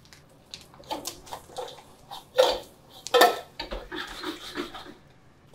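Mud crab pieces are tossed in a pan with butter, giving repeated metallic clatters and scrapes of the utensil against the pan, close and lively, with quieter gaps between bursts.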